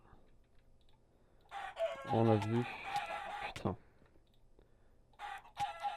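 Chicken clucking and crowing in a video game, a loud crow with clucks mid-clip and further bursts near the end, under brief talk from a player.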